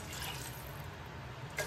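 Water pours into a pot of fish escabeche in a steady, close splashing stream, ending with a brief clink near the finish.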